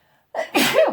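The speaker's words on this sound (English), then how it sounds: "Oh goodness, I was gonna sneeze." A single loud, close sneeze: a short sharp intake of breath followed by a forceful burst, then silence.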